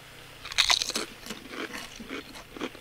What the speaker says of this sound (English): Guys, hear the crunch.